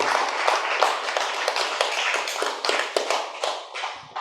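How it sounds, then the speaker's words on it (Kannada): Audience applause at a spiritual talk, a dense crowd of hands clapping steadily and fairly close for about four seconds, fading slightly at the end with no voices over it. "ನಿಮ್ಮೆಲ್ಲರಿಗೂ ಚಪ್ಪಾಳೆ ಹೊಡೆಯೋದ್ರ ಮೂಲಕ ವಂದನೆಗಳನ್ನು ಸಲ್ಲಿಸ್ಕೊಳ್ಳೋಣ."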